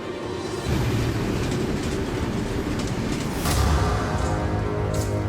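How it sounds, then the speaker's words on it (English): A diesel-electric locomotive with four electric traction motors runs on an icy railroad. Its loud, steady rumble and wheel clatter swell partway through, with a brief higher screech near the middle. "This feeds 4 powerful electric traction motors below, and these turn the locomotive's wheels."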